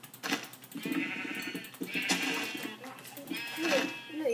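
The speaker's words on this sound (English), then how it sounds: "It's a black sheep." Sheep bleating in a Minecraft-style sandbox game, several short bleats spread across a few seconds and sitting under a player's ongoing talk, fairly close and clear.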